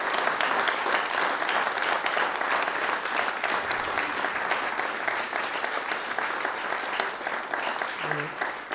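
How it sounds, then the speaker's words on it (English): Sustained, full audience applause for a panel at a Flippin' Pain event in Lincoln, dense clapping holding steady for several seconds with a few voices mixed in. "Can we have a full-on round of applause for these guys and our panel"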